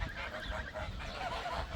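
Geese honking close by, several overlapping nasal honks in quick succession.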